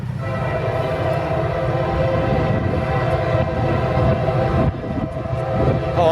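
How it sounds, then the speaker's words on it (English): A CSX autorack freight train led by a Dash 8 locomotive rumbles past up close, a loud, steady roar of engine and rolling wagons lasting throughout with no talking. "We have a CSX autorack train."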